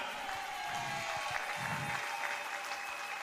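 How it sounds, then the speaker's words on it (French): A church congregation applauds in a steady, dense wash of hand clapping that sounds faint and distant, with a murmur of voices in the hall. "Applaudis très bien le Seigneur."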